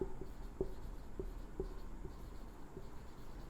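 Chalk or marker tapping and scratching on a board during a physics lesson, a few sharp taps at irregular intervals over a quiet room tone, no talking.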